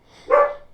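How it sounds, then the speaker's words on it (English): A single short dog bark, close and fairly loud, in a quiet indoor space. "sorry about my dog."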